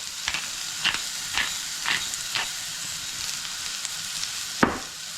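Onion and green pepper for a breakfast burrito sizzle steadily in a pan, with a soft frying hiss broken by several sharp clicks and scrapes from stirring.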